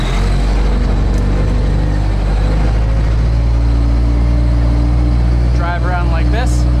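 A backhoe engine running in gear as the machine drives off, a loud steady diesel drone with a low rumble throughout and a brief squeal near the end.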